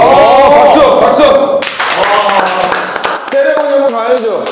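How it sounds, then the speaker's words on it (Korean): Several people clap by hand during a gym strength challenge pitting a 240 kg squat against a footballer's lower-body power; the sharp, fairly close claps are scattered under loud, excited talking and cheering throughout. "박수, 박수."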